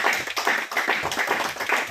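Church congregation applauding after a sermon reading, steady dense clapping from many hands throughout, fairly loud and continuous.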